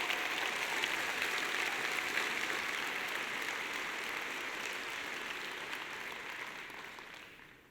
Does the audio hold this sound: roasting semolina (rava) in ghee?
no